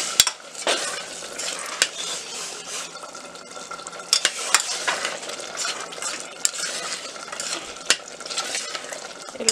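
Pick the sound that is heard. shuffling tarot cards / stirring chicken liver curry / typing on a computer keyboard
stirring chicken liver curry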